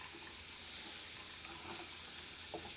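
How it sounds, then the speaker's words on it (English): Steady sizzle of melted butter in a hot pan, a continuous crackling hiss with no voices. "We've got it sizzling, which means it's ready to go."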